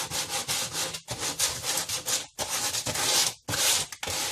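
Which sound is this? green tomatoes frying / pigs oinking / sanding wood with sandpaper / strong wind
sanding wood with sandpaper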